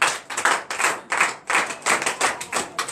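A congregation at a morning prayer service claps hands in acclamation, in loud, close bursts of rhythmic clapping with short pauses between the groups.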